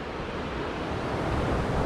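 Broad, steady rush of a river at the bottom of a steep canyon trail, loud and continuous with a little wind buffeting the microphone, no voices.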